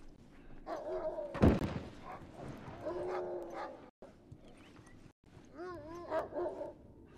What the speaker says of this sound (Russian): Собаки, что ли?